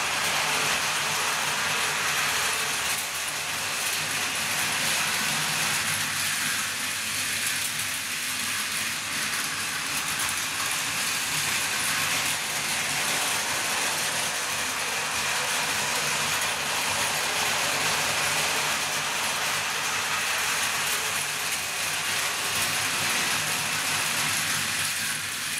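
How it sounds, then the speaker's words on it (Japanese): A model train runs on homemade double-track figure-eight rails with point sections, giving a steady, continuous mechanical rumble and whir throughout at an even level, with no talking. "列車を走行させてみました。"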